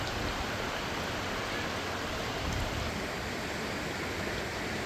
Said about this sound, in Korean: 옆 계곡에서 물이 아주 많이 흐르고 있다 아따 소리도 크다